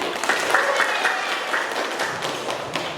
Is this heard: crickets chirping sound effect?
no